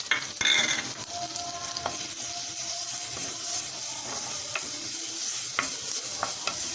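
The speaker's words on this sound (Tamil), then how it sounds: "இப்போ இதையும் கொஞ்சம் நெய்யில் வதக்கிக்கலாம்" Grated coconut stirred and frying in ghee gives a continuous crackling sizzle, with scattered sharp scrapes and clicks of a spoon against the pan throughout.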